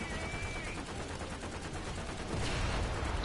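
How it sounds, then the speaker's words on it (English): Rapid bursts of gunfire during a War Thunder battle, a dense, loud volley of shots that swells louder near the end. "Get some fire, get some shots on him,"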